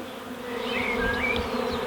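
A swarm of honeybees buzzes steadily and densely around a willow tree, a close, continuous hum with a few individual bees whining past.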